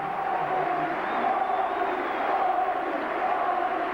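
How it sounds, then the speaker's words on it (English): Rugby league crowd on the popular side at a St Helens versus Salford match in 1992 applauds and roars, a broad continuous wash of crowd noise from a packed terrace with no break. "Rapturous applause from the popular side."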